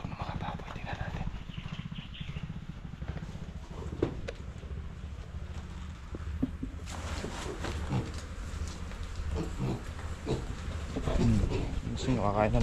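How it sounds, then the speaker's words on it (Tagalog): Pigs on a farm grunt and shuffle in their pen, with occasional low oinks and hoof clatter up close, while someone talks over them. "Sarap ng tulog ng mga baboy."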